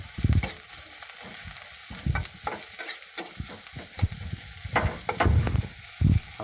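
Onions and dried red chillies fry in a pan while a spoon stirs them, giving repeated scraping strokes and clatter over a steady close sizzle, with no talking.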